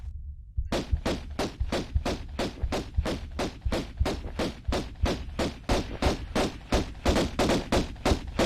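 Rapid, evenly spaced pistol shots ring out from Lara Croft in the 1996 Tomb Raider game, a steady string of about twenty sharp, loud reports with no pauses or voices.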